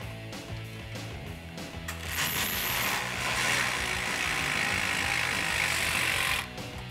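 A ratchet wrench tightens 19 mm bolts on a Westin HDX brush guard for a 2009-2014 Ford F150, rapid clicking pawl strokes close up, building into a sustained metallic ratcheting run before stopping.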